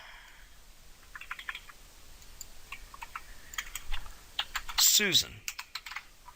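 Someone types code on a computer keyboard in short bursts of light, close key clicks, with brief spoken words and a quick squeaky sweep partway through.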